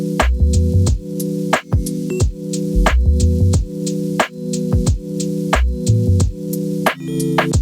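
Lofi rhythm section on an OP-1 synthesizer with a deep synth bass line under looping drum hits and a repeating chordal pattern, steady mid-tempo groove, loud and close, no talking.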